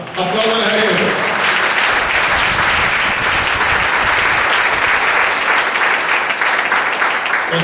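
A church congregation applauds at a sermon, giving sustained, loud, dense clapping from a crowd for several seconds, with a voice briefly audible at the start.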